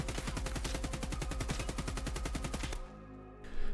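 A DT MDR bullpup rifle in Escape from Tarkov firing full auto, a steady rapid string of about twenty-five evenly spaced shots, then stopping abruptly with a brief echoing tail.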